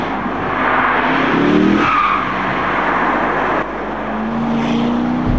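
A Corvette C6 Z06 sports car with a 512-horsepower naturally aspirated engine roars past with a loud, sustained engine and tyre noise that swells and fades, with no speech.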